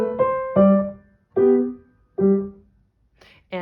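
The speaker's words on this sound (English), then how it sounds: "then the left hand's going to play more detached for all of those quarter notes" Piano playing Bach's Minuet in G with detached articulation, a handful of separated notes and chords with short silences between them, ending in softer, higher notes. Clear and close, no talking.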